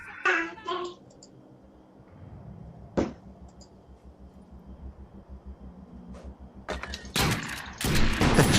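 Shotgun blasts in the online shooter Defiance: a burst of sharp gunfire near the start, a single loud shot around three seconds, then a dense volley of shots at the end over a low game rumble.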